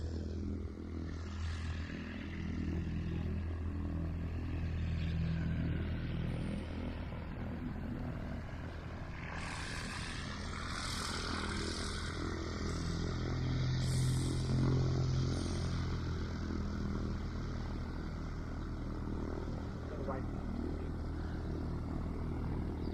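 Engine drone from an aircraft on the runway at Sleap Airfield, a steady moderate propeller-like hum heard outdoors at some distance, swelling slightly midway, with no talking.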